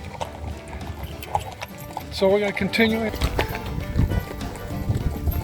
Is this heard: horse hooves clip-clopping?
yes